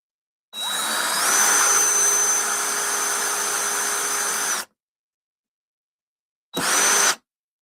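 Power drill boring pilot holes while an X-Arcade haptics kit is installed, a steady loud whining run of about four seconds, then a short second burst after a pause.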